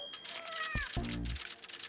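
Domestic cat giving a couple of close, drawn-out meows in quick succession, over a murmuring background.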